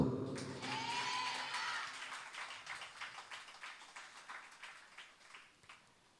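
Congregation at a Sunday church service clapping hands in a steady rhythmic series of claps, starting dense and loud, then settling into evenly spaced beats that gradually fade.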